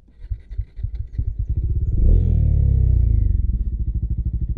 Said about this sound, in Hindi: अब बैरल आपको इसका साउंड सुनाते हैं एग्जॉस्ट साउंड